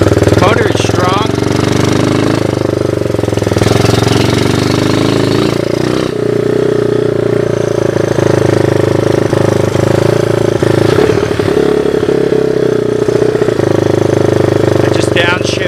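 Engine of a Honda 185S ATC three-wheeler with upgraded suspension running continuously at close range during a ride, a steady loud rattling drone with slight shifts in pitch and a person talking over it.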